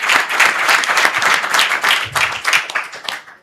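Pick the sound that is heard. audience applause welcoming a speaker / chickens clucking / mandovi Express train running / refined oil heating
audience applause welcoming a speaker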